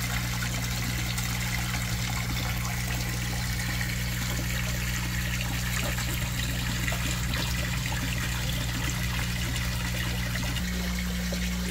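Water returning from an azolla tank in a tilapia recirculating aquaculture system, a steady, dense trickling flow with a constant low hum beneath, unbroken throughout.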